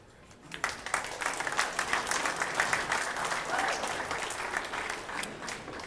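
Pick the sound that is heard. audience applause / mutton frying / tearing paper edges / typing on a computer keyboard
audience applause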